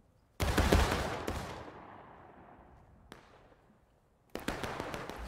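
A musket volley in the multiplayer Civil War game War of Rights at Dunker Church, with a loud crackling burst of many shots fading into a long rolling echo, a lone shot later, and another ragged volley at the end.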